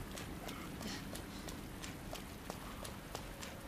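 Heavy footsteps of Mr X stalking the player in Resident Evil 2 on PS5, a steady run of thudding steps over constant game ambience.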